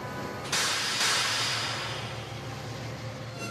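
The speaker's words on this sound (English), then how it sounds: "whereas Mavis's brakes sound like this." Mavis the diesel engine's brakes give a loud, steady hiss that surges twice near the start, then eases slightly while continuing under a low engine rumble.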